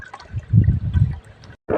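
Water is poured out onto a fresh concrete pool slab at a construction site, a steady splashing wash that swells and eases, then briefly cuts out before surging again.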